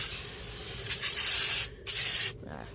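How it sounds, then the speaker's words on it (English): A pump sprayer hisses onto Weld Racing truck wheels in two bursts of misting spray, close and fairly loud, separated by brief pauses, with no talking. "it one more quick hit with the pump sprayer"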